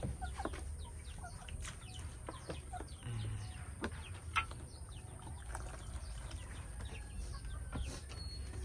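Chickens cluck and call intermittently at a countryside farm, with scattered short calls and occasional wing flaps over a low steady outdoor background.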